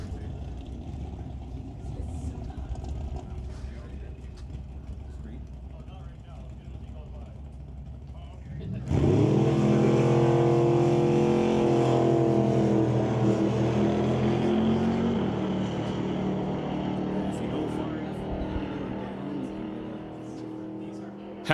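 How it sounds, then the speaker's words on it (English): A 1972 Vega drag car with a 434 cubic inch small block Chevy fires up at a drag strip, its loud, rough engine roar cutting in over background din partway through and holding steady, close by. "Said final entry being Brian Heffel in this 1972 Vega. Sporting a 434 cubic inch small block Chevy motor."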